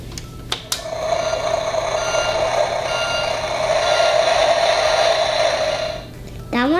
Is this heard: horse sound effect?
no